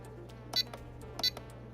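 An RC car transmitter is switched on, giving two short, sharp high beeps about two-thirds of a second apart, with faint clicks in between over a low steady hum.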